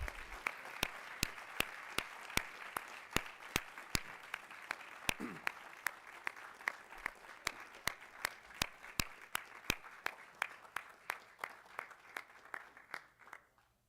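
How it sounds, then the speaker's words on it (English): An audience claps steadily after a performance by a small oboe, violin and cello ensemble at a school board meeting, with sharp individual claps standing out and the clapping thinning out and fading near the end. "Let's give them all a round of applause, ladies and gentlemen."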